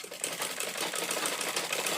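A sewing machine runs stitching a bone channel on a corset, a fast steady rattle of needle strokes held close and unbroken for a couple of seconds, with no talking.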